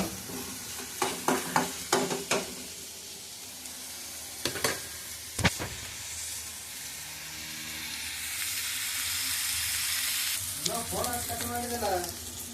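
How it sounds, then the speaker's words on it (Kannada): Onions frying in a pan until they redden, a soft continuous sizzle with a run of sharp clanks and scrapes early on, then a steadier hiss with a faint voice-like murmur near the end. "ಈರುಳ್ಳಿ ಸ್ವಲ್ಪ ಕೆಂಪಗಾಗೋ ತನಕ ಸ್ವಲ್ಪ ಕಾಯಿಸ್ಬೇಕು"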